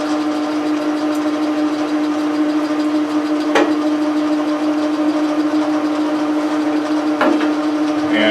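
A metal lathe turning a telescope declination shaft, with a pump oiler feeding ISO 32 hydraulic fluid, gives a steady, loud mechanical hum with a constant tone. Two sharp clicks or ticks break through the drone, close by and with no voices.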